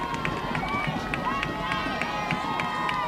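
Stadium crowd noise at a high school football game, Pulaski Academy at Marion, a steady roar with scattered whistles and shouts, continuous and moderately loud behind a commentator's voice.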